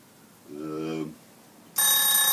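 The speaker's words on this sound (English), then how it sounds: "there's a bell." A bell rings out loud and sustained, arriving suddenly after a short, quieter tonal sound, with no other activity around it.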